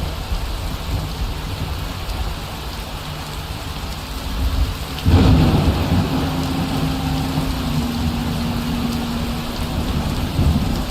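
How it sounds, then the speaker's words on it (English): Rain pattering steadily in the game Skyrim along a side road, with a sudden loud thunderclap about halfway through that rumbles on under the downpour, a low tone lingering afterward. "And it started bloody raining again."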